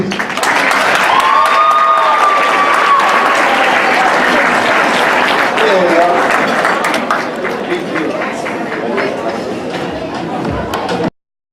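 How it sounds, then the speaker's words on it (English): A gala crowd at the FC Ranger Soccer Club USA 2019 event applauds an award recipient, loud sustained clapping with a few whoops and chatter, gradually thinning before ending abruptly. "A hand of applause, please."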